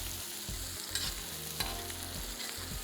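Masala with tomato paste fries on a hot tawa, a continuous close sizzle with rhythmic stirring scrapes and a couple of sharp utensil clinks, and no voices.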